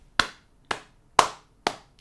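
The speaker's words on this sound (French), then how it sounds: "Donc vraiment, Cmanif, des applaudissements." Four slow, sharp hand claps spaced about half a second apart, close and isolated with quiet between each.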